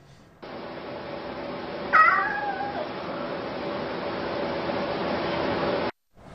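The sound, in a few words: hungry cat meowing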